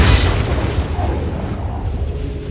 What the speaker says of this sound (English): We'll go with the Booming Blade.